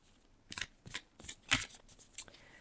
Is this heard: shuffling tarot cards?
yes